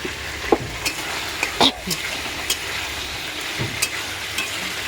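Potato, papaya and pointed gourd curry frying in a pan, a constant hiss of sizzling broken by irregular scrapes and knocks of a stirring spoon, heard close up with little talk.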